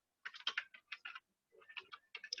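Keys clatter on a computer keyboard in short bursts of quick taps, broken by a brief pause midway, close and fairly light, with no voice.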